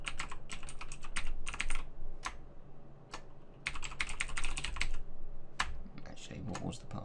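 Password being typed on a computer keyboard while setting up an FTP client: bursts of quick, close keystroke clicks separated by short pauses, with low room hum underneath and no speech.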